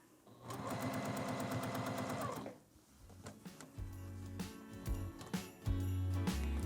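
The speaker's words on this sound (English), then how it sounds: "Now we're just going to sew around." A sewing machine stitches around a fabric gift bag in a fast, even burst for about two seconds, then runs again in shorter close-up bursts with clicks of handling between.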